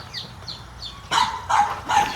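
Three short, high chirps from baby chicks in a chicken coop, followed by three louder bursts of clucking or squawking, fairly close, over faint background noise.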